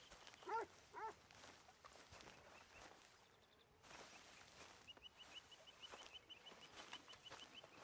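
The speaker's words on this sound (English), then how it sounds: "A dog." A dog in the Western video game Red Dead Redemption 2 gives two short, fairly close barks near the start, then falls silent beneath a quiet outdoor game ambience of rustling and light footsteps.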